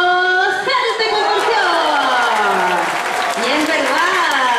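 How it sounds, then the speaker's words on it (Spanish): Audience at a marine animal show at Buin Zoo applauds loudly and continuously, a dense wash of clapping and cheering while an announcer's voice carries over the crowd. "Aplausos para Maya."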